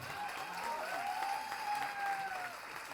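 Applause from an audience at the KalamKaar Kavi Sammelan 2020 poetry recital, a steady dense patter of many clapping hands filling the full three seconds at even loudness, with a faint tonal whistle drifting through.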